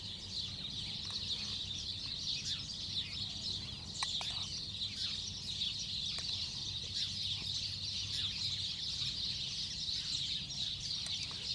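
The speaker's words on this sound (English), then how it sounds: "Listen to those birds." Outdoors in the Kalahari, chickens cluck and peck continuously while a dense chorus of small birds chirps and trills overhead. The scene forms a steady, moderately loud wash of farmyard and wild bird calls with no voices.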